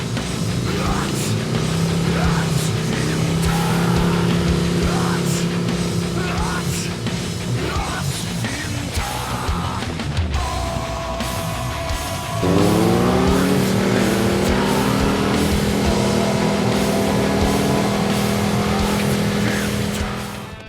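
A 1993 Honda motorcycle engine hums steadily as it is ridden, its pitch rising and falling with throttle changes, loud and close throughout with a brief dip midway before climbing again.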